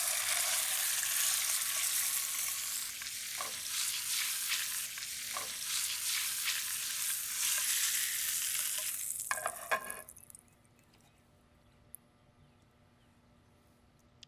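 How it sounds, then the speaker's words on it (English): Salmon sears skin side down in hot oil and butter, a steady loud sizzle and crackle with a few utensil knocks, which cuts off abruptly and leaves a faint hum. "I'm going to heat up some oil. I'm also going to be adding a little butter to this. And now I'm going to sear my salmon on the skin side."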